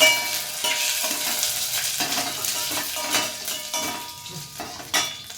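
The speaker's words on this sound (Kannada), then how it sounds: "ಸೊ ನಾನು ಊರಿಂದ ತಂದಿರುವಂಥ ಈ ಗಟ್ಟಿ ಹಿಂಗನ್ನು ಹಾಕ್ತಾ ಇದ್ದೀನಿ" Solid lump asafoetida dropped into hot oil for tomato rasam, a steady close sizzle and fry with a few stirring clinks of utensils against the pan, continuous throughout with no voices.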